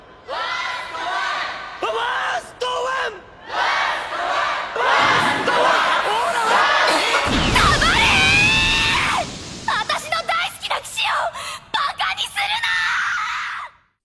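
Arena crowd in an anime battle yells and jeers at Ikki, loud massed shouting and screaming that swells in waves, with a sharper burst of cries near the middle before trailing off.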